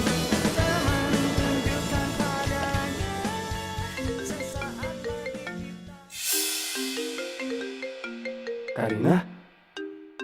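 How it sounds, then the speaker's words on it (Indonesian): A mobile phone ringtone plays a bright electronic melody of stepping notes, loud and close, with a short break in the tune before it carries on. "Ada suara nada deringnya Ciko di sini"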